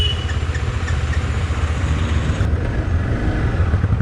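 A 2020 KTM 390 Adventure's single-cylinder engine idles steadily at close range, a low, even rumble running throughout without any talk.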